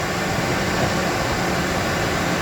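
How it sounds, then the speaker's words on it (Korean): A hair dryer blows hot air onto a car radiator being soldered with an electric iron, giving a loud, steady whooshing hiss with no speech. "인두를 가지고 나비 이렇게 헤어드라이기와 함께 해서 납을 이렇게 얼마든지 녹일 수가 있습니다"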